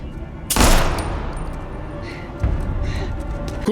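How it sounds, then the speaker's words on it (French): Gunfire in the TV series From, season 3 episode 4: one loud sharp burst of shots followed by a lower thud a couple of seconds later, heard over a dim background. "Oui, c'est des coups de feu."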